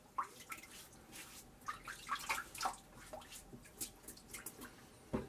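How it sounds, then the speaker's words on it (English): Water splashing and dripping at a sink while someone wets their face before a shave, a series of close, light splashes and drips coming in irregular bursts. "I'm gonna wet my face."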